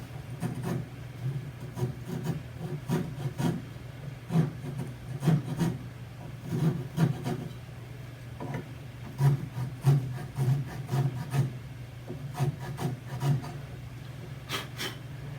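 Rasp rough-filing the dovetail neck joint of an archtop guitar, a steady run of rough wooden scraping strokes in irregular bursts, close and alone.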